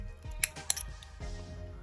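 Scissors snip close by, two sharp metallic cuts in quick succession, followed by faint handling noise, while working on a Scalextric BRM slot car.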